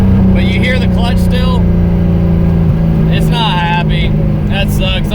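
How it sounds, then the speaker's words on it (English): A Mazda Miata with a noisy clutch accelerates in third gear, its loud, steady engine drone with whining harmonics filling the cabin while someone talks over it. "That wasn't slipping, but you hear the clutch still."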